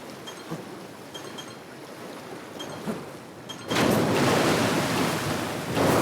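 Water in the Monster Hunter Stories 3 video game washes softly at first, then swells into a louder, steady rushing surge of surf-like noise partway through, with no voices.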